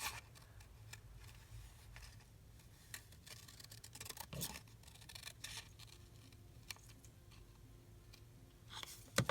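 Scissors snip through paper craft material at a desk, a string of short, quiet clicking cuts spread over several seconds, with no talking.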